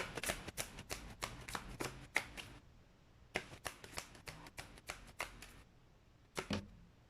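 Oracle cards are shuffled and pulled in rapid bursts of crisp papery flicks, close up: a fast run of riffles, a pause, then another run and a final couple of snaps.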